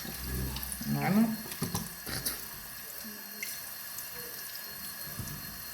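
Water runs from a tap and splashes in a sink while a face mask is rinsed off, with gurgling and dripping and a voice talking intermittently over the flow.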